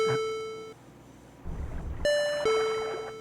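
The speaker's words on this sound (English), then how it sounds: "Why do they have a doorbell ringing for the pause sound?" A two-tone ding-dong chime, the doorbell-like pause sound from the SNES Lion King game, rings clearly, fades, then sounds again after a pause over low background rumble.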